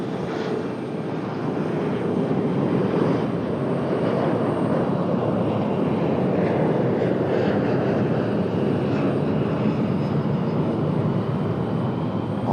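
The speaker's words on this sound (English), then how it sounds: "Off and into the clouds for the CRJ" A CRJ regional jet takes off at Raleigh-Durham International Airport, its broad, steady engine roar holding loud and continuous throughout with no talk.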